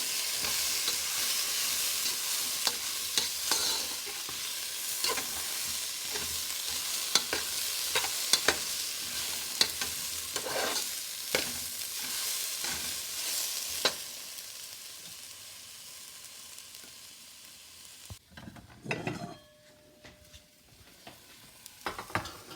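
A spoon scrapes and stirs through sizzling carrots and green peas in a pan, with repeated clinks at an uneven pace. The stirring then stops and only a quieter sizzle remains.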